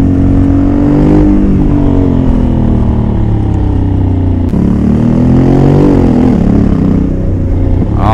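A 2021 Honda Africa Twin motorcycle with manual gearbox accelerating hard on a race track, its engine note climbing and dropping through quick gear changes, loud and close throughout with no talk.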